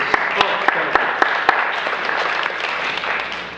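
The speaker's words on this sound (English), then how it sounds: "Generally, we don't allow audience applause, but I think at this portion we're going to allow it" Applause from the audience at a Democratic Board of Aldermen candidate forum, a few sharp claps standing out over a brief, moderate burst of clapping, with speech heard alongside.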